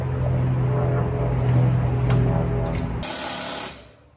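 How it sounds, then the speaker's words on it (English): A Ridgid impact driver buzzes and rattles continuously while loosening bolts on a John Deere 2210 tool bar, close and steady for about three seconds before winding down. "I'll use my rigid impact, just loosen them up"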